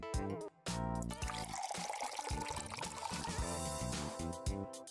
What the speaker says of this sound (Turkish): Şişeye renkli süt dökelim.